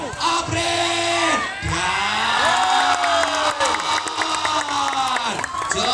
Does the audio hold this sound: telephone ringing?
no